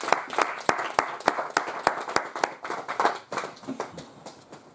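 A church congregation at a miracles and healing seminar claps in a loud, fairly rhythmic burst of sharp hand claps that gradually loosens and fades, acclaiming the word of God.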